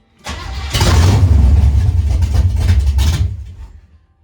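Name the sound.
carbureted junker V8 engine starting after two pedal pumps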